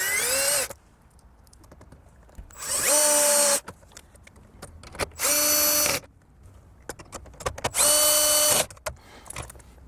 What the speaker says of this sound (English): let me go ahead and bolt these 4 10mm bolts, 2 on the bottom and then 2 on the top right here